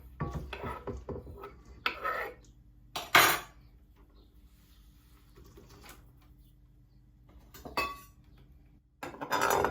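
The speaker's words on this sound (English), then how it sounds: "Helps if you scrape it off with a knife." A knife scraping grated courgette and lemon zest into a mixing bowl, heard as a few short, close metallic scrapes and clinks separated by quiet pauses.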